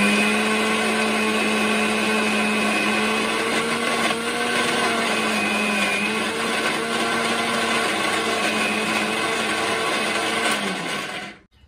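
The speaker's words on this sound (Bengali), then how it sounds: "এগুলো এখন মিক্সারে পেস্ট করব" A mixer grinder whirs steadily while blending soaked lentils into paste for lentil dumplings, a loud continuous motor drone with slight pitch wavering that runs almost the whole time and cuts off abruptly at the end.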